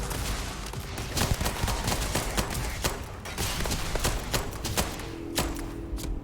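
Gunfire rings out in the sci-fi video game Starfield as rapid bursts of sharp shots over a continuous busy combat background, loud and close, with no talk over it.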